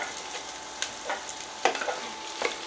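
Ground meat being broken up and scrambled into small pieces in a hot pan for Zuppa Toscana soup, with a steady close sizzle and scattered scraping, clicking stirs of the utensil against the pan.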